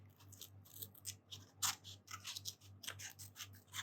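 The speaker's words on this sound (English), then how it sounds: "It doesn't have to be snipped off. I'm just doing that for ease. And I'll also snip down the edge here." Scissors snipping down the edge of paper in a quick, uneven series of close, crisp cuts, with no talking.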